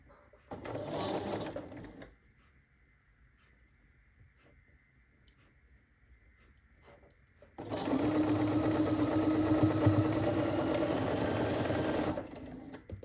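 A sewing machine stitches over a pressed-open seam in tiny quilt pieces, running in two bursts: a short run near the start, then a longer steady stretch after a quiet pause with faint movement sounds.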